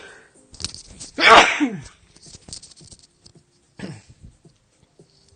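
A single loud sneeze right at the microphone, partly muffled by a covering hand, bursting out after a brief spoken word and followed by quieter rustling and a short breathy sound.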